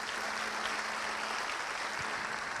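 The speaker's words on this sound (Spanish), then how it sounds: "Dale ese aplauso fuerte si lo quieres hacer." A church congregation claps during a Spanish-language sermon, a soft, steady patter of many hands that carries on evenly for a few seconds at a distance.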